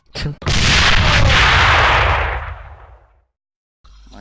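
A grenade explodes in the shooter game AvA (Alliance of Valiant Arms), a short click then a loud, close blast that rumbles and fades over about two seconds before silence.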